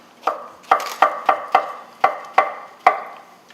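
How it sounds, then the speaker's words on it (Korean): A knife chops through mushrooms on a cutting board in eight crisp, close strikes at an uneven, unhurried rhythm, with no voices. "버섯 좀 썰어 놓으시고"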